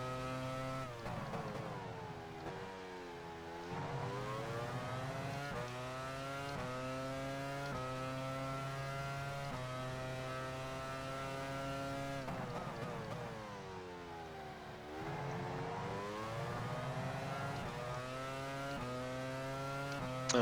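Formula One race car in the F1 Challenge 99-02 game at Australia's 2003 circuit, engine screaming at high revs, pitch sweeping down under braking and climbing again through gears, loud and continuous, with no talk.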